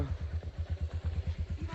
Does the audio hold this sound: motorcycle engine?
yes